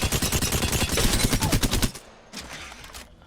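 The Alternator fired from the hip in Apex Legends lets out a rapid, loud burst of evenly spaced shots for about two seconds, then a shorter second burst after a brief pause.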